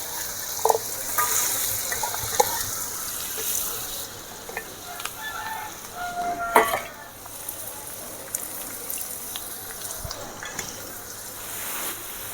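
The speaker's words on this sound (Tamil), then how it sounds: "நல்லா உருளைக்கிழங்கு வெந்துகிட்ருக்கு." Potato pieces frying in oil for a potato rice dish, a soft moderate sizzle with faint bubbling and occasional clinks, some background noise and a short burst of voice.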